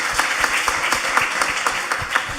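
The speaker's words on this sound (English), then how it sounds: "How about a round of applause for UCLA Law" An audience at a talk on anti-racist lawyering in Los Angeles applauds for UCLA Law School graduates, a moderate crowd clapping with a few louder individual claps standing out.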